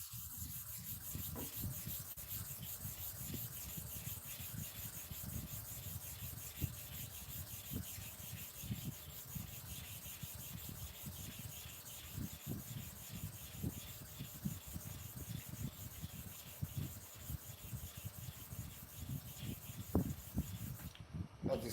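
An upper barber clipper blade is rubbed to and fro on a kerosene-spread sharpening surface, making a steady run of soft, close scraping strokes in a regular rhythm for the whole stretch.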